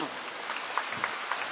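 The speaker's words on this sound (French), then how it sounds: "Alléluia, on applaudit Jésus." A worship congregation applauds in a church service, a dense, steady wash of clapping with a few louder claps standing out, heard from within the crowd.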